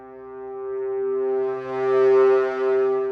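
A virtual orchestra brass sample holds one sustained note whose timbre is swept with a mod wheel crossfade, its tone brightening and swelling in waves as the layers blend seamlessly, heard alone.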